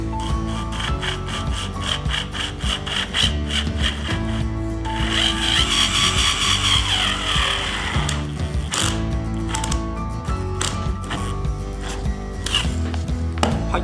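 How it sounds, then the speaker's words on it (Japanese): A PRIMERO electric screwdriver set at low torque drives screws into two soft hinoki wood boards, giving a close, steady motor whir with rasping, grinding bite into the wood and brief pauses between runs. "この2枚のヒノキを留め付けてみたいと思います"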